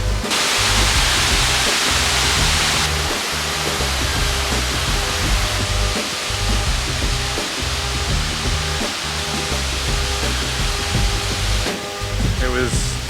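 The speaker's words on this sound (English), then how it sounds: "It was such a gift to be under that waterfall." A Costa Rica waterfall pours in a loud, steady broadband rush close by, continuous throughout with faint low rumbling underneath.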